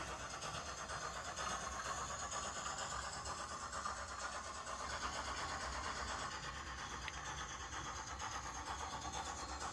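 A Bachmann Caledonian Railway 812 Class 0-6-0 model steam locomotive with DCC sound runs steadily on Hornby set track, giving a faint, continuous mechanical whirr with a slight metallic grinding edge.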